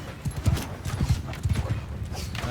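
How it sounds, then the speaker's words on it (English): A horse gallops in a Mount & Blade II Bannerlord battle, with rhythmic hoofbeats thudding close and loud in quick groups under the clamor of the fight. "All right, come on, horse. Keep going. Keep going."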